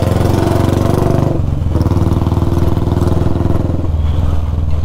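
A Royal Enfield Bullet motorcycle idles up close with a loud, steady, rhythmic thump that continues without a break.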